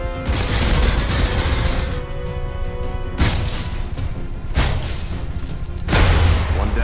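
Automated defense turrets in the Alien Rage shooter open fire in loud, sustained bursts with booming impacts, dense gunfire surging in several waves over the game's ambient score.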